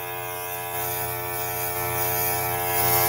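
A steady electric buzzing hum with a faint hiss of spraying, continuous and close, growing slightly louder toward the end.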